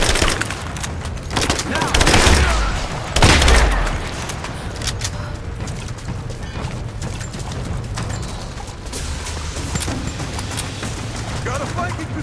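Gunfire in Rise of the Tomb Raider, dense bursts of shots and heavy booms over a continuous battle din, with a voice shouting briefly over it.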